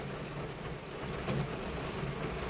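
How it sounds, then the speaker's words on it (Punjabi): Steady, dense heavy rain pours down continuously in Dhuri, a thick wash of noise with no voices, as if heard from close by. "ਹੁਣ ਫੇਰ ਪੂਰੇ ਫੁੱਲ ਜ਼ੋਰ ਦਾ ਮੀਂਹ ਪੈ ਰਿਹਾ"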